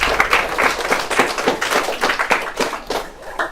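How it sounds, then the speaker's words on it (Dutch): A school audience at a theatre lesson on bullying applauds, steady close clapping from many hands that stays fairly loud throughout with no talk. "Applaus."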